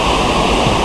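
A strong river current rushes in a dense, continuous roar, loud and close with no voices over it.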